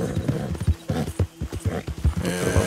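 Horse in the video game Red Dead Redemption 2, after jumping at dusk: a run of hoof clip-clops in steady rhythm, close and fairly loud, with a short whinny-like call near the end.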